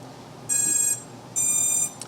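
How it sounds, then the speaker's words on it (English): Drone ESCs on a quadcopter beep on power-up as the battery is plugged in: two clear, high electronic beep bursts about a second apart, each lasting roughly half a second, in a quiet room. "you can hear the ESCs have powered up"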